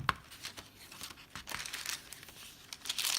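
Tracing paper from a travel journal kit is handled indoors, giving soft intermittent crinkles and crisp rustles in irregular bursts, close to the microphone with no speech.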